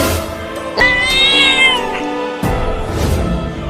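A cartoon cat gives a loud, close, drawn-out meow with a rising and falling pitch, followed by a second, shorter meow, with steady background music throughout.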